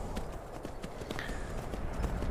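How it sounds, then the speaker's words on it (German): Hooves clip-clop at a steady walking pace as a horse is ridden through snowy country in Skyrim VR, soft regular beats under a faint windy background. "Setzen wir uns aufs Pferdchen und reiten darüber."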